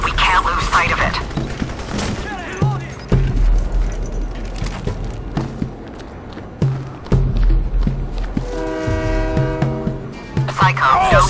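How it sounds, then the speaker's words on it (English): Train moving in the shooter Crysis Warhead, a loud rolling rumble with clanks and a horn-like tonal blast near the end, mixed with game effects and speech. "Train's moving."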